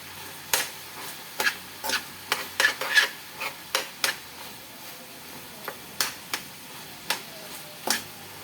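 Ground pork giniling stir-fries in a pan with a light sizzle under a busy run of sharp, irregular ticks and scrapes from the utensil against the pan, fairly close and steady.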